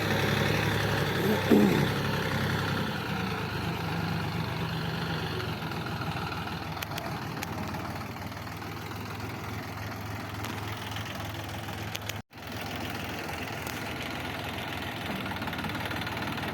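A tractor-driven hitched implement runs steadily at 500 rpm, a continuous mid-low mechanical drone with a faint knocking beat, close and fairly loud throughout.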